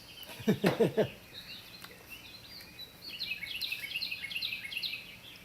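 Faint birds chirp and twitter in a quiet outdoor setting, a short burst of lower calls first, then a longer run of high, thin tweets.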